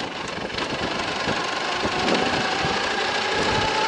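Dnepr motorcycle converted to an electric motor, accelerating in second gear with a steady mechanical hum and road noise that strains slightly as it builds, no voices.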